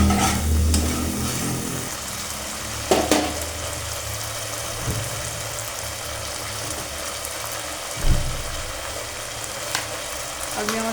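Soybean and potato curry with turmeric frying steadily in a pan, a continuous close sizzle and crackle with occasional stirring clatter, no voices.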